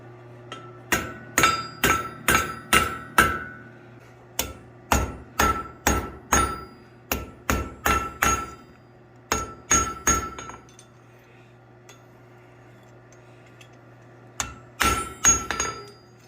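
Hammer forging a metal lizard on the edge of an anvil, sharp ringing strikes in quick rhythmic bursts of four to six blows, then a long pause before a final cluster of blows.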